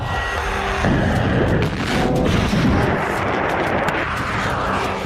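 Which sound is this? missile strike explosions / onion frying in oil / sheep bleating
missile strike explosions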